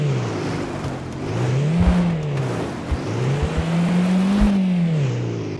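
A car engine revs and whines as the vehicle churns through mud on a squirrely dirt road in the Beware game, pitch rising and falling in waves with occasional thumps and clunks, close and steady.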